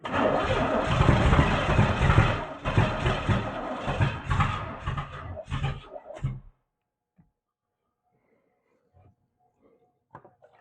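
A barn-find Camaro engine runs under throttle, a rough, loud mid-pitched rumble with surging revs for about six seconds before it cuts out, leaving near silence with a few faint clicks.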